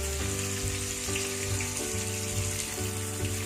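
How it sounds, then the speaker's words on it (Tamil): Prawn vadai fry in hot oil with a constant, bright sizzle, under steady tonal music that shifts pitch every second or so. "தீஞ்சு போகாமல் பொன்னிறமாக வறுத்து எடுத்துக்கணும்"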